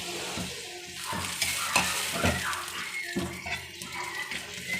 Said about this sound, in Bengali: লাউ আমি দিয়ে দিলাম, বাগার দিয়ে দিলাম লাউটা।